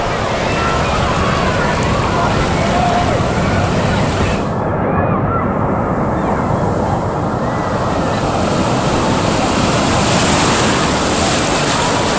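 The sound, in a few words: wave crashing in the Typhoon Lagoon wave pool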